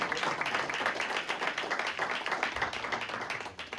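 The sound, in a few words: audience applause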